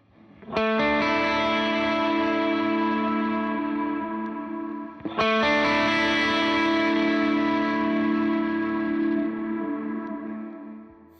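Overdriven electric guitar through an overdrive and boost pedal rings out in two sustained, distorted strums, the second struck around midway with the boost kicked on and left to ring, loud and thick with a slight lift.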